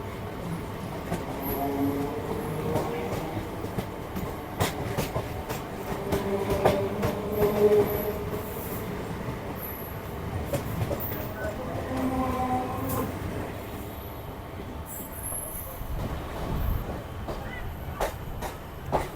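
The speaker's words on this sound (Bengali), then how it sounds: "এই ট্রেনটার সাথে ক্রসিং ক্রসিং হলো এটা বজবজ যাচ্ছে" A suburban Kolkata circular-rail train heading to Budge Budge rumbles past a crossing near Majerhat, a steady clattering wheel-and-carriage roar with intermittent clicks running continuously at moderate distance, no talk.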